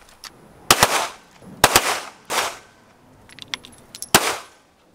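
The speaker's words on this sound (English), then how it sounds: "The first dot is just 5 rounds slow fire." Slow-fire gunshots at a shooting range ring out as sharp, loud cracks spaced roughly a second apart, each trailing a brief echo over a quiet background.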